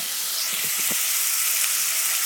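Tomato and chili frying in a hot pan for sweet and sour pork, a loud, continuous sizzle with a few soft stirring scrapes early on.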